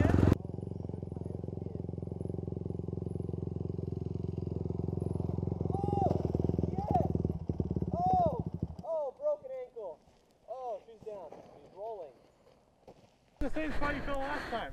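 A dirt bike creeps slowly downhill, enduro style, its engine a steady low drone for most of the run before cutting off, with people's excited voices breaking in over and after it.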